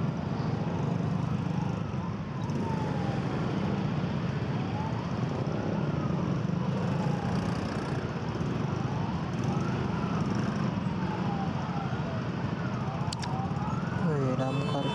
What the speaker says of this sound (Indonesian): Wih, damkar ya.